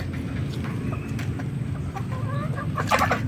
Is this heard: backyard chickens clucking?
yes